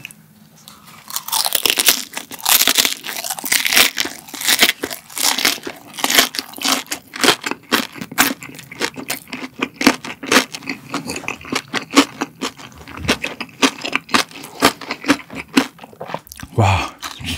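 Loud, close crunching as crispy roast pork belly skin is bitten and chewed repeatedly, with a rapid run of crackly bites continuing throughout.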